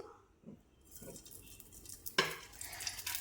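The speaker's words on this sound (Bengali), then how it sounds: "এবার আমি উল্টিয়ে পাল্টিয়ে পরোটাটা খুব ভালোভাবে ভেজে নেব" A paratha frying in oil in a pan, being flipped and turned: quiet soft scrapes at first, then a sudden clatter as a bright sizzle rises and holds, close and fairly loud, without speech.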